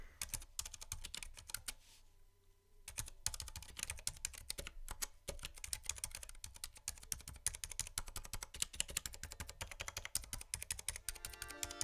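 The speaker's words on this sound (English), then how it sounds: "there's definitely a lot less clacking noise compared to other keyboards with standard switches and ABS keycaps" Steady, rapid typing on a Ducky One 2 Mini keyboard fitted with Cherry MX Silent Red switches, a dense run of soft keystrokes nearby with one brief pause early on and no talking.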